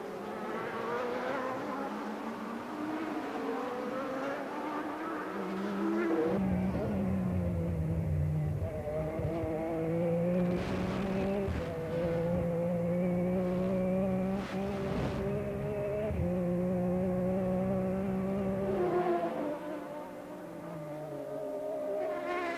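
GT1 race cars, including Ferrari 550 Maranellos and a Lamborghini, racing at Monza in a 2005 endurance race, their engines droning loudly and continuously with pitch rising and falling as they pass, a few sharp higher bursts mixed in.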